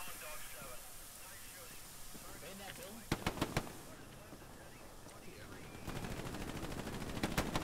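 Gunfire from a machine gun in the World War II shooter Hell Let Loose, with a short cluster of sharp bursts midway and more distant shots scattered around, heard under ongoing voice chat and battlefield ambience.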